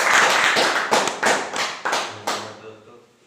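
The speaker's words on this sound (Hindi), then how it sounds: "जोरदार आपके माध्यम से ताली" Audience clapping at a live event, a burst of applause that breaks into several sharp rounds of claps and fades out over about three seconds, close and loud.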